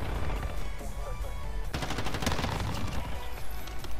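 Rapid bursts of automatic gunfire from Call of Duty Modern Warfare crackle close and loud, dense rattling volleys mixed with game ambience and occasional low voice.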